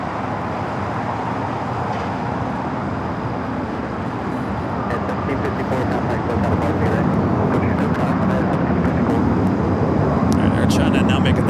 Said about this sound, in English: Air China now making that turn on to taxiway Kilo